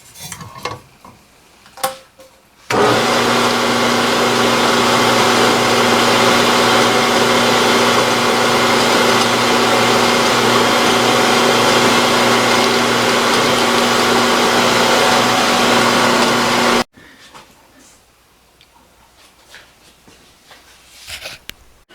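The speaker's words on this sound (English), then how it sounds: "So we're going to center drill for that right now." A metal lathe spins up and center drills a hole for an 8-32 screw, giving a steady motor hum with tonal whine for about fourteen seconds between quieter stretches of faint shop noise.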